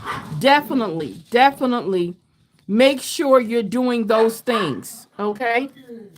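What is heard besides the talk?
dogs barking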